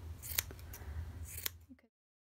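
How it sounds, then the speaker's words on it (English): Scissors snipping through a yarn pom pom, two sharp close cuts amid soft rustling of the fibres, then quiet. "just make sure you trim it well on the other side as well."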